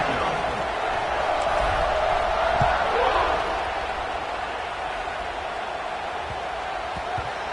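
A football stadium crowd keeps up a dense, steady buzz after a touchdown in a college game between NGAA and TCU, a broad roar that eases slightly partway through with a commentator talking over it.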